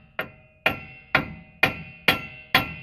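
A sledgehammer taps the top of a press to seat a Ford Explorer ball joint: six sharp metallic strikes at an even, unhurried rhythm, each ringing briefly before the next.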